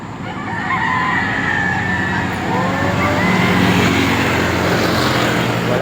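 Chickens and roosters crowd a poultry farm in Marilake, a dense, continuous clucking din with crowing calls rising through it and a low rumble of a passing vehicle underneath.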